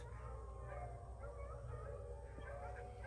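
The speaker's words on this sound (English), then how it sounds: "I think those were coyotes, if I'm not mistaken, or some kind of dog." Coyotes or dogs calling out in a rural swamp area on the outskirts of Orlando after a thunderstorm, distant yips and whimpering howls over a steady low background rumble.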